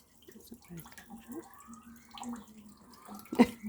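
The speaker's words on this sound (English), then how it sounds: "My little water fountain." A small garden water fountain trickles and drips softly and steadily, quiet and close, with one slightly louder splash near the end.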